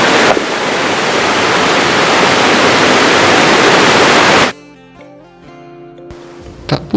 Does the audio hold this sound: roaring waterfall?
yes